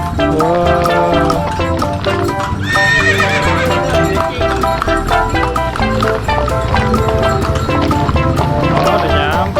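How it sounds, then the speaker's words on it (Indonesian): A horse pulling a delman cart at Mekarsari comes near, its hooves clip-clopping under loud, dense music, with voices talking over the scene. "Ini delman yang tadi udah datang"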